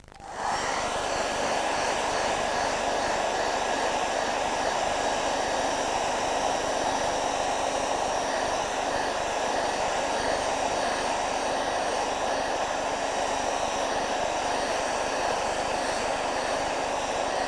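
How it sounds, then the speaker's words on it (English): A hair dryer switches on and blows steadily, a loud, even whoosh with a faint high whine that holds without pause. "I'm going to speed up the process with my little hairdryer."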